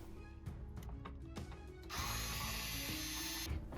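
Power screwdriver whirring as it backs two screws out of the handlebar area of a JBL PartyBox 110 speaker, short bursts at first and then a steadier, louder run, close up and without talk.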